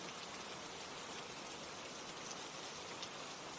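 Steady rain pours down on a surface as a dense, even hiss that holds constant throughout, with no voices or other sounds.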